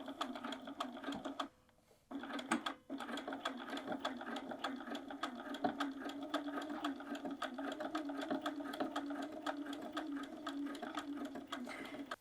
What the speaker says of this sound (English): So we're just gonna start sewing.